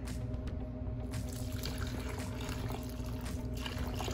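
Liquid Jello is poured into a hollowed-out watermelon, making a soft, steady trickling and splashing for a few seconds. The sound is quiet and close, with no voices.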